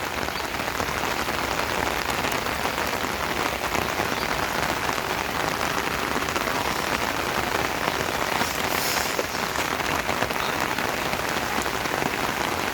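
Heavy monsoon rain pours down in a dense, unbroken hiss of drops striking surfaces, loud and close throughout with no pauses, and no voices.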